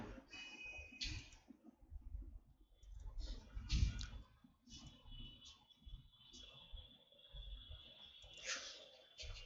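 Someone types on a computer keyboard to enter a Google search, giving close, quiet, irregular key clicks in short bursts with faint background noise.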